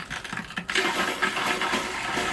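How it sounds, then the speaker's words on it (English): A travel trailer water pump pushes air out of the line as water sputters and gurgles from the tap, a constant rushing splash with brief bubbling spurts, close and fairly quiet. "we start off getting rid of the air, get some more bubbles, pump kicks in"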